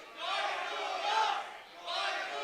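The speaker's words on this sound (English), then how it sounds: "And listen to the crowd on hand supporting their hometown hero, Mick Vinola." A wrestling arena crowd at a European invitational event in Tallinn, Estonia roars for a hometown hero, a loud sustained chant-like cheer that dips briefly and swells again.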